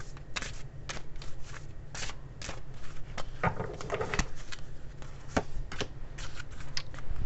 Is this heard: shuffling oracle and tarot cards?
yes